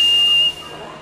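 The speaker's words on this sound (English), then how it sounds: "This is how my whistle sounds." Steam engine whistle from a Thomas & Friends video game, a loud steady high-pitched tone with a breathy hiss that cuts off about halfway and leaves a softer fading tail.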